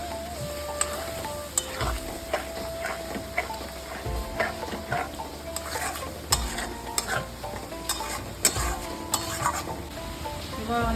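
Spinach paste hits frying masala in a pan and sizzles steadily while a spoon stirs it, scraping and clinking against the pan in irregular bursts over a constant frying hiss.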